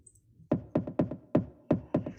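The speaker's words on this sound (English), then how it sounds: "And then we have the tom, which sounds like this" Seven deep tom drum hits programmed in XLN Audio XO sound in a syncopated pattern, each a punchy thud with a quick downward pitch drop, loud and dry.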